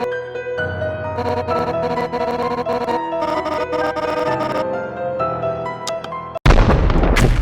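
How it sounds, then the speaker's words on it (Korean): A sudden loud explosion engulfs a gallery in Limbus Company, bursting in near the end after a stretch of sustained game music and leaving a dense, roaring rumble. "폭발은 순식간에 갤러리를 감싸버렸고"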